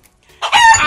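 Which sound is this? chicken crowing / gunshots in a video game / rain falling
chicken crowing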